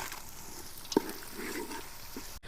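Cashews sizzle as they fry in pure ghee with green peas, a quiet, steady hiss with a few soft stirring clinks.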